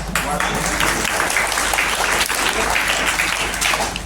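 An audience at a village school event applauds: dense, loud clapping that runs steadily for a few seconds, with a faint murmur of voices under it.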